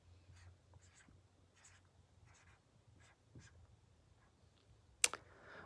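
A word is written by hand during a classroom guided-reading lesson: faint, quiet scratchy strokes come in short bursts, ending with a brief sharp click, with no talk.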